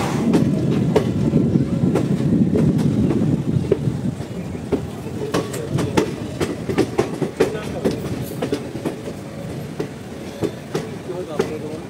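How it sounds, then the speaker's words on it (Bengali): The 13161 Kolkata–Balurghat Tebhaga Express runs on rails, a loud rolling rumble with rhythmic clickety-clack wheel beats growing sharper and more frequent, heard from aboard with voices talking nearby. "আমাদের ট্রেন মানে 13161 আপ কলকাতা বালুরঘাট তেভাগা এক্সপ্রেস"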